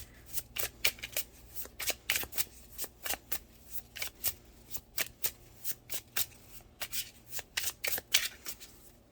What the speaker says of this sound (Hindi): इससे ज़्यादा शफलिंग नहीं हो सकती है